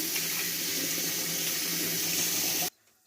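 Tap water runs steadily into a sink as raw goat meat is rinsed under it, a loud close rushing stream that cuts off abruptly near the end.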